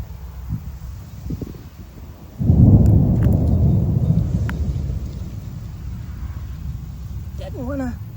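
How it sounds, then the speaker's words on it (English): Thunder from a storm rolling in over a vegetable garden: a deep rumble swells suddenly and lingers for several seconds, with faint earlier rumbles before it and a brief voice-like sound near the end. "that storm is coming through and the thunder is sounding"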